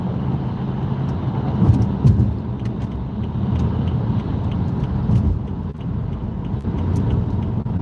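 Car driving onto the I-5 highway toward Seattle, Washington, a steady loud road and engine rumble from inside the vehicle with faint ticking clicks, no voices.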